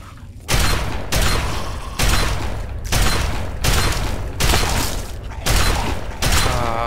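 Sniper rifle fire in Fallout 3: six loud, evenly spaced shots about a second apart, each a sharp blast with a long ringing tail, with no talking.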